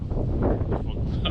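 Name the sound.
strong wind blowing into the microphone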